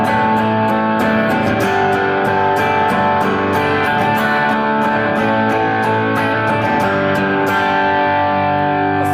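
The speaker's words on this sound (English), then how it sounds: "Thicker overdrive sound." Electric guitar played through a thick overdrive distortion effect, a dense sustained chordal tone with rhythmic picked attacks running steadily throughout, loud and alone with no talking.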